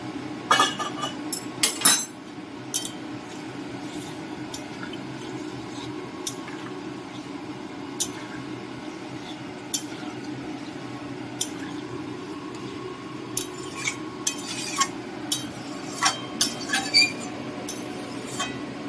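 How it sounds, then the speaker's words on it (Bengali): A metal spatula stirs a prawn and potato curry in a pot, giving scattered clinks and scrapes against the metal over a low steady simmering rumble. The clinks are busiest at the start and again toward the end. "একটু খুন্তিটা ওপর থেকে দেবো, মশলাগুলো ছেড়ে যাবে।"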